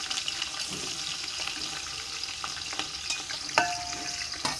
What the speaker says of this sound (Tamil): எண்ணெய் சூடாகட்டும் பட்டை கிராம்பு ஏலக்காய் இதெல்லாம் சேர்த்திக்கலாம் வெங்காயம் சேர்த்திக்கலாம்